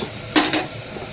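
Chopped tomatoes with salt fry in a pan, a steady low sizzle with two quick scraping stirs close by, no voices.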